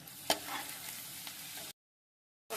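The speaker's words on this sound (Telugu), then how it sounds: "కాకరకాయ సగం వేగిపోయింది ఆయిల్లో" Bitter gourd pieces fry in oil with a soft, steady sizzle, faint and close, broken by a brief silent gap before the frying resumes.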